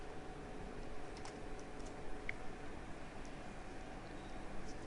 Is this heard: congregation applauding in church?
no